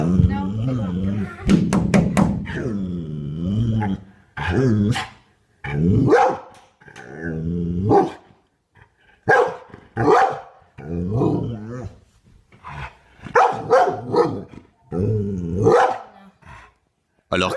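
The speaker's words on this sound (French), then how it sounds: "le chien aboyait sur l'ours depuis un point sécurisé" A dog barks at a bear from a safe spot, loud repeated barks and drawn-out howling yelps in bursts separated by short pauses, with a voice speaking in places.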